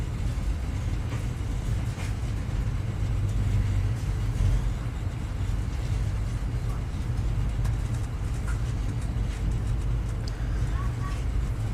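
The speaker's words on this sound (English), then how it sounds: "well now I'm on the train." A train rides through New Brunswick, Canada, heard from inside the carriage as a constant low rumble and broadband roar, steady and near throughout with faint rattles above it.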